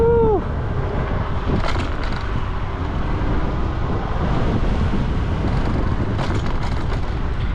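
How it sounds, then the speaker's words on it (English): Wind buffets a GoPro 11 mini mounted on a moving Nami Burn-e electric scooter, a steady, loud low rumble that lasts the whole ride with no break. "it is a bit windy"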